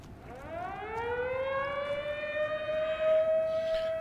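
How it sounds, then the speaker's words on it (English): A civil defense siren in the video game The Secret World winds up from low to a high sustained wail, loud and steady with no speech over it. "I do apologise for the siren going on"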